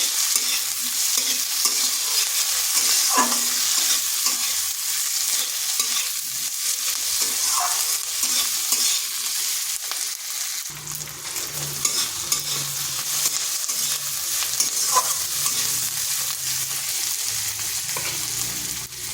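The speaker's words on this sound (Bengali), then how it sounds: "তারপর আদা আর রসুনটাকে ভেজে নিচ্ছি।" Ginger and garlic pieces fry in a pan with a steady, close sizzle and frequent scraping stir strokes across the full stretch, with no talking.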